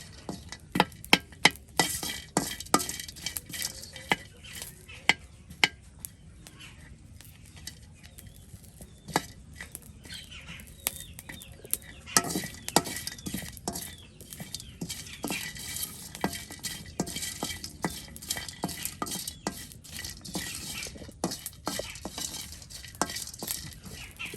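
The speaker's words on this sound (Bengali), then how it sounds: "শুটকি ভেজে নেওয়া হচ্ছে" Dried fish (shutki) fries with garlic in a pan, heard as a continuous sizzle broken by frequent sharp scrapes and clinks of stirring utensils against the metal, close and fairly loud, with no talking.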